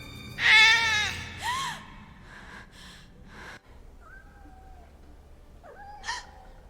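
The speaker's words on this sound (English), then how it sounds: "Oh, it's just a cat." A cat gives a loud, drawn-out meow followed by a shorter one, then softer chirps and a faint meow later amid quiet background.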